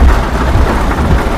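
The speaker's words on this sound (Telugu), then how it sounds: "ఫుల్ వర్షం" Heavy rain falling during a trip in Goa, a loud, continuous dense roar of downpour with no pauses and no talking.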